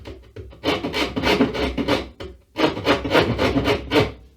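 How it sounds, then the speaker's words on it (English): A rasp hacks at a wooden guitar template in two bursts of quick, rough back-and-forth strokes, loud and close, with a short pause between the bursts. "You can take regular old rasp and just hack away."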